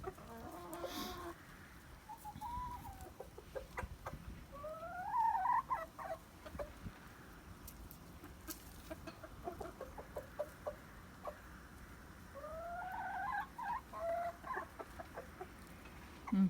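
Chickens cluck and a rooster calls in rising bursts, with scattered clucks and pecking sounds throughout; outdoors, fairly close, with strong wind noise.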